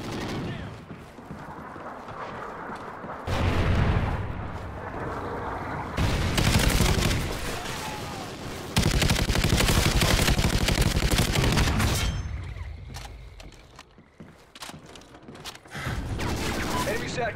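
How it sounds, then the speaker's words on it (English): Trinity rocket strikes in Call of Duty: Ghosts land as heavy, rumbling explosions and dense bursts of gunfire in long, loud waves, with voices speaking in places. "Friendly Trinity rocket inbound."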